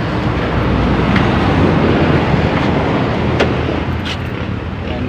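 A Mitsubishi Lancer with a 4G15 engine idling roughly with a black smoke problem, a loud constant drone with faint ticks as the RPM sags toward stalling, no voices over it.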